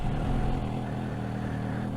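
Suzuki GSX-S750 inline-four motorcycle engine running just after starting, a steady low hum at modest volume that holds even throughout with no revving and no voices.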